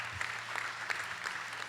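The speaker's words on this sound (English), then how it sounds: "So give that a great round of applause" Quiet, brief applause from an audience at a brewery event, scattered hand claps heard faintly at a distance for a couple of seconds.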